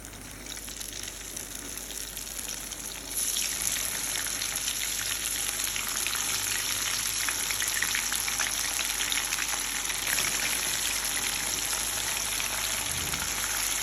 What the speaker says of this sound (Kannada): ಈಗ ನಾನು ಇದನ್ನು ಫ್ರೈ ಮಾಡ್ತಾ ಇದ್ದೇನೆ.